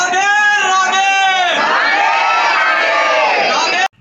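A dense crowd of pilgrims packs the narrow lanes of Vrindavan, many voices shouting and chanting together in a loud, continuous roar close by that stops abruptly at the end.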